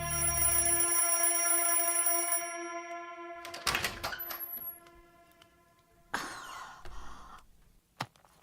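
An alarm clock rings loud and steady with a shrill metallic tone for about two seconds, then stops, followed by scattered clattering and thumps in a quiet room.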